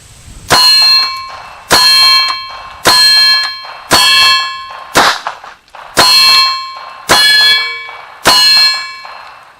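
A low-cost Hi-Point pistol fires a magazine of eight loud, sharp shots at a steady pace of roughly one per second, each crack ringing out with a metallic tail, close and without talk.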